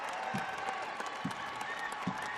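A crowd of more than 2,000 at a women's college basketball game between Utah State and Boise State rises and applauds, a dense, steady wash of clapping filling the arena.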